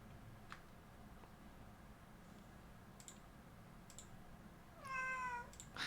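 A house cat lets out a single short meow near the end, over quiet room tone and a few soft keyboard clicks.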